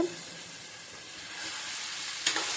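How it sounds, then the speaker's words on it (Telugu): Cauliflower frying in a tomato curry in a pan gives a steady, close sizzle. One brief scrape from stirring comes near the end, and no one speaks. "క్యాలీఫ్లవర్ వేసుకుని ఒకసారి బాగా కలుపుకోవాలి"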